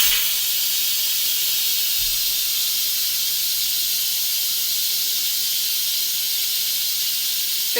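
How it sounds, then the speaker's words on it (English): A pressure cooker vents steam in a loud, continuous hiss that holds steady for nearly eight seconds, close by and with no voices over it. "so now we're just going to relieve the pressure."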